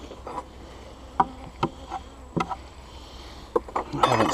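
Honeybees buzz around a hive fitted with a new Ceracell feeder during an inspection, with sharp close buzzes of passing bees over a faint, steady hum and a thickening swarm noise toward the end.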